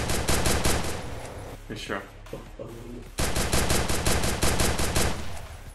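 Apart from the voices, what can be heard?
gunfire in a video game (Free Fire Max)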